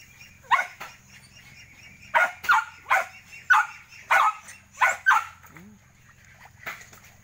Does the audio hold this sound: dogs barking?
yes